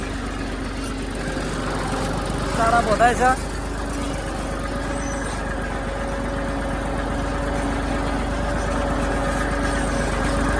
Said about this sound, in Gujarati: ટ્રેક્ટરનું કોઈ હળિયું ચાલુ છે